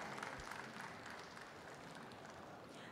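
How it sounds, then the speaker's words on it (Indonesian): Audience at an electricity-efficiency conference applauding, a faint, dense, steady clapping that carries on for several seconds without any voices. "Tepuk tangan untuk kita semua."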